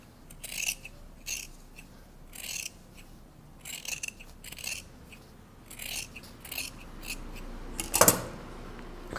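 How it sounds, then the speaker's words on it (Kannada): Scissors snip off excess fabric while a kurta is being stitched, several short close cuts spaced irregularly, with one louder sharp snip near the end and quiet handling between. "ತಿರ್ಗಾ ಎಕ್ಸ್ಟ್ರಾಸ್ ಏನಾದರೂ ಇದ್ದರೆ ಟ್ರಿಮ್ ಮಾಡ್ಕೊಂಡ್ಬಿಡಿ"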